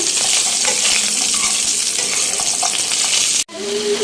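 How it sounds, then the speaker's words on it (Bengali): Pumpkin lentil dumplings (kumro bori) fry in hot oil with a steady, close, crackling sizzle that holds evenly, then drops out abruptly near the end before resuming. "আর এই সাইডে হচ্ছে কুমড়ো বড়িগুলোকে ভেজে নিচ্ছি।"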